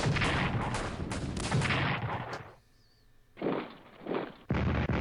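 Artillery defensive fire rumbles in the Strategic Command World War I game as several loud, broad booming barrages with a short quiet gap between them, close and heavy.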